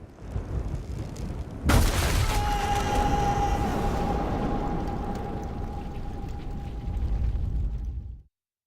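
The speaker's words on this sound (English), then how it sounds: "I survived, and I thought I'd heard gunshots." A single loud, sharp gunshot blast in the video game 11-11 Memories Retold cuts through a low rumbling background, followed by a steady high-pitched ringing tone that lingers for several seconds.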